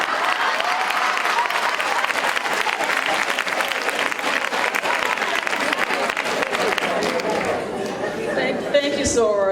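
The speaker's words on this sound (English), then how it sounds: "So let's give us a round of applause." Steady applause from an audience of sorority members fills the space, many hands clapping continuously with chatter and voices underneath, tapering off near the end as someone starts speaking.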